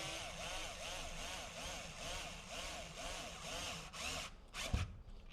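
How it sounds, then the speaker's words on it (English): A power screwdriver drives screws into an in-wall Wi-Fi access point mount, whirring in a steady, rhythmic pulse at moderate level, then stopping with a knock and a brief clatter. "let's just screw this bad boy in there"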